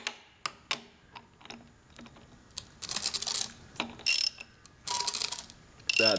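A 12-valve Cummins diesel engine with a crusty belt is turned over after sitting a long time, giving mechanical clicks, ratcheting ticks and rough scraping, squealing bursts, fairly quiet and close, with no talk.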